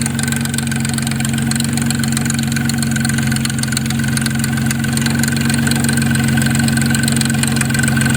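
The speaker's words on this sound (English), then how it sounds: "timing chain's making some noise now" A 2004 Nissan Maxima engine idles steadily and loudly, a constant low hum with a faint rattling, ticking timing chain noise running through it the whole time.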